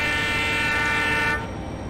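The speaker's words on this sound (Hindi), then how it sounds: "दोस्तों WDP 4D के हॉर्न आपको कैसे लगे भाई" Long sustained blast of a WDP 4D diesel locomotive horn in a train simulation game, loud and steady with layered harmonic tones, then cutting off into train running noise.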